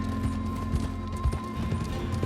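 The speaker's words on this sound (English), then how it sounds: "That is a horse." Horse hooves clip-clopping in Red Dead Redemption 2, a steady rhythmic trot with low thuds over a constant background hum, fairly quiet and close.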